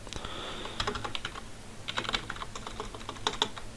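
Keys on a computer keyboard are tapped in uneven clusters of quick clicks, close and moderately loud, with short pauses between bursts as someone types a code comment.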